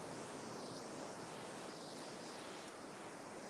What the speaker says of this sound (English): Let you take in the sound of this beautiful ocean real time here.